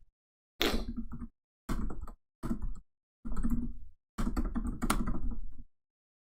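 Someone types on a computer keyboard in several separate bursts of close, clattering keystrokes, with short silent pauses between them and no voices.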